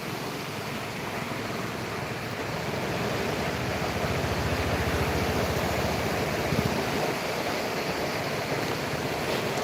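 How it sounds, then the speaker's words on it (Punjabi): Fast-flowing Sutlej river water rushes and churns up sand from the riverbed, producing a dense, continuous roar that holds steady and loud throughout, with no talking. "ਇਹ ਦਰਿਆ ਹੁਣ ਥੱਲੋਂ ਰੇਤਾ ਪੱਟ ਰਿਹਾ ਪਾਣੀ ਦਾ ਇੱਥੇ ਬਹੁਤ ਜ਼ਿਆਦਾ ਤੇਜ਼ ਹੈ"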